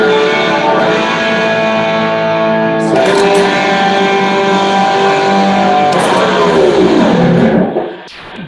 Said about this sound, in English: that's the sound of these two pickups out of phase